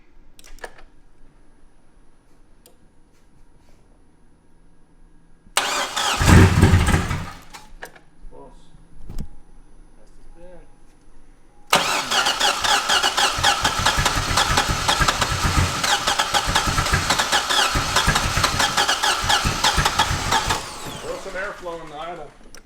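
A wrecked C6 Corvette Z06 V8, its rocker arms exposed in a shop, tries to fire with a short loud burst, then catches and runs at a steady, loud roar for about nine seconds before dropping away, with people talking around it.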